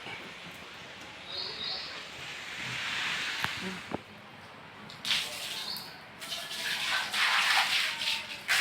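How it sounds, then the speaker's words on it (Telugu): Water poured to wash stairs splashes across the hard steps in uneven bursts, swelling louder toward the end, with no talking. "మెట్లు వాటర్ పోస్తే సామిరంగా తెల్ల అవుతున్నాయి"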